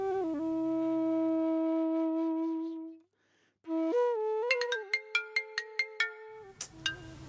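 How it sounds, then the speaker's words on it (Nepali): A mobile phone ringtone plays loud and alone, a sustained melodic tone for about three seconds, a brief gap, then a brighter run of quick plucked notes repeating in a rhythmic pattern. "फेरि कस्तो फोन"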